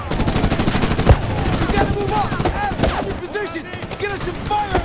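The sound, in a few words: gunfire in the video game Medal of Honor (2010)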